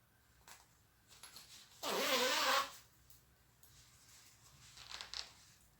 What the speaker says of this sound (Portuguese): E agora eu vou passar o cursor do zíper.